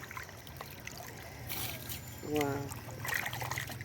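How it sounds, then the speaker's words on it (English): Rice is washed by hand in water in a village kitchen in rural Kenya, giving soft trickling and sloshing splashes that grow louder midway. A person speaks briefly over the water sounds. "We have to wash our rice."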